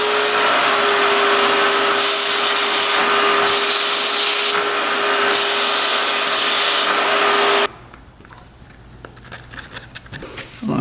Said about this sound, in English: Might just stick a vacuum in there and suck all that out.